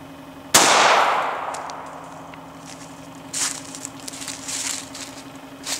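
A single close, loud gunshot from a .380 pistol firing a 56 grain ARX round into ballistic gel, with a sharp crack and a short decaying tail, followed by faint clattering and rustling.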